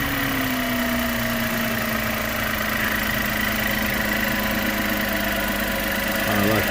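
A 2021 VW T-Cross engine idles steadily with a constant low hum and a busy, buzzing rattle on top, heard up close from start to finish without speech.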